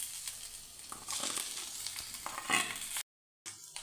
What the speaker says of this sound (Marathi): आता हा किस आपल्याला सतत हलवत असं कोरडा होईपर्यंत आपल्याला परतवून घ्यायचा आहे